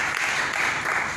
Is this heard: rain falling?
no